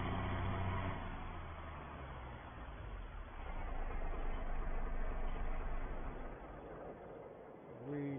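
A farm tractor engine runs steadily and loudly as it drives back to the yard, a continuous rumbling drone that swells slightly midway and stays close throughout.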